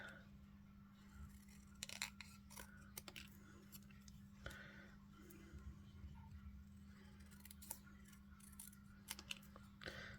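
Paper is snipped with scissors at a stamping craft table, producing a series of small, close crisp cuts and clicks over a low steady hum, with a few faint murmurs.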